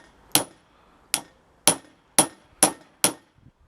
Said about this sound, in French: Sans le tournevis à choc, c'est même pas la peine d'y penser.